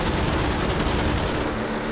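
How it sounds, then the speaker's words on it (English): A Spitfire MkIX in IL-2 firing its machine guns and cannons together, a dense continuous rattling roar of rapid shots with no pauses, loud and close. "Guns, cannons. Guns, cannons."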